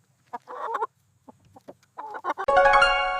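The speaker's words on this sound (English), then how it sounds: "This is a hen. Meet this hen. It lays eggs and clucks softly." A hen clucks softly in short, close bursts, then breaks into a louder, drawn-out squawking call.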